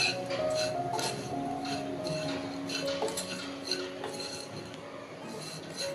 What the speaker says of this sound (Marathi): तुपावर थोडंसं परतून घेऊया